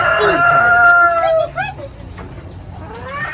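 Chickens at an outdoor farm animal market in Canton, Texas, give loud clucks and squawks close by, a cluster of calls that tails off into a quieter murmur of other birds and people talking in the background.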